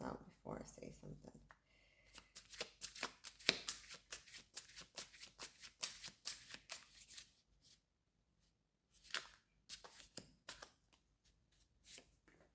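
Tarot cards being shuffled by hand, quiet close riffling and slapping in bursts with gaps of near silence between.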